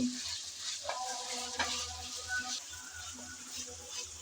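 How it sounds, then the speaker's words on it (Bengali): Potato pieces fry in hot oil while being stirred, producing a constant close sizzle with scraping stir sounds and a few light clinks; no one speaks. "প্রথমে আমি আলু একটু নেড়ে চেড়ে তেলের মধ্যে বেজে নিচ্ছি"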